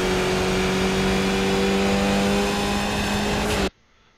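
A Skip Barber race car in the iRacing simulator at Road Atlanta drives hard up through the gears, its engine buzzing loud and constant at high revs before cutting off abruptly to near silence.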